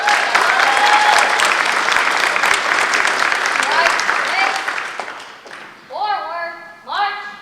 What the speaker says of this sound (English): Let's give these award winners a round of applause.